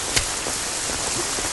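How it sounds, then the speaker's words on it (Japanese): Steady autumn rain falls in an anime scene, a continuous even hiss that stays level throughout with a few faint soft thumps underneath and no voices. "よく降りやがるぜ、秋の長雨ってやつか。"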